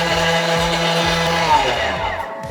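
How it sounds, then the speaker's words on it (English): A Thermomix grinds sugar and cornstarch at speed 10 with a loud, high motor whine and harsh buzzing. The motor pulses and the pitch wavers, then it winds down near the end. "we were grinding sugar and cornstarch"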